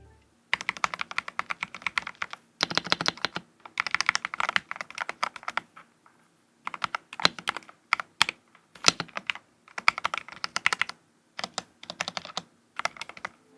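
Typing on a slim HighGround keyboard at a desk setup, with quick bursts of crisp, close keystrokes separated by short silent pauses.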